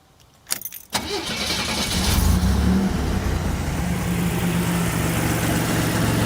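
A 1987 Buick Grand National's engine cranks with a few quick starter bursts, then catches and settles into a steady, loud rumbling idle close by.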